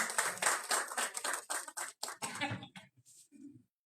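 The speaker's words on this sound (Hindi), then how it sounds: "मनोज अग्रवाल जी के लिए जोरदार ताली प्लीज" A stage audience at a comedy show bursts into brisk applause for Manoj Agarwal. Dense, fairly close clapping rattles for about three and a half seconds, thins into a few scattered claps, then stops.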